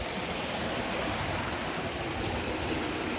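Joes River in St. Joseph, Barbados flows with a steady, broadband rush of water, continuous and moderately quiet with no voices.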